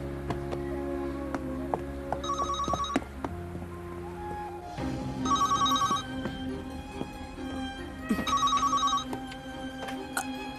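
A telephone bell rings indoors in repeated bursts of trilling chimes, steady and clear over a low background hum.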